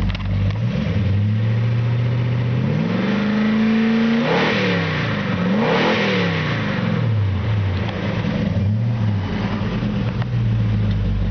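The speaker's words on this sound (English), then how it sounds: "This thing's got an amazing sounding exhaust." A 1964 Ford Galaxie engine idles loudly, then revs up twice in quick succession with a throaty, rumbling exhaust before settling back to a steady idle.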